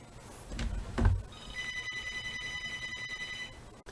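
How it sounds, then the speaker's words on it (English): A telephone rings in the visual novel game Fading Hearts, with a brief thump or two before a bright electronic ring sustains for a couple of seconds, then stops. "Ah, the phone."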